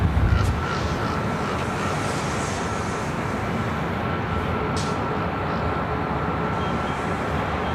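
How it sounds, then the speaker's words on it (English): An ANA Boeing 787 Dreamliner taxis at LAX toward the north side, a steady mid-level engine drone with a short thump at the start and faint intermittent higher hisses. "We also have an ANA Dreamliner heading up here to the north side"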